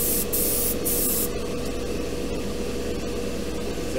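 An airbrush fed by a compressor sprays paint onto a model war machine hull with a steady, close hiss throughout, marked by two brief, sharper bursts near the start.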